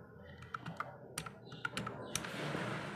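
Code is typed on a computer keyboard in quick, irregular clicks and key taps, close and fairly quiet, with a soft steady background hum.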